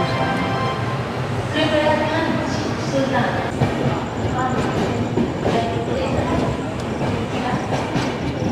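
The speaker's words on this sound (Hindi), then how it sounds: "लखनऊ चारबाग रेलवे स्टेशन से संपर्क क्रांति सुपरफास्ट एक्सप्रेस डिपार्चर होते हुए प्लेटफॉर्म नंबर 1 से।" A Sampark Kranti Superfast Express pulls out of platform 1 at Lucknow Charbagh railway station. Its loud, steady rumble and rattling wagons continue throughout, with brief metallic squeals and a faint murmur of people nearby.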